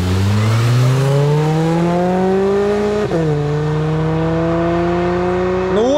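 Volkswagen Golf 1.4 turbo with chip tune and exhaust drag racing a naturally aspirated Kia Cerato 2.0, engines revving hard and rising through a gear change, with a loud, close, sustained roar and no talking.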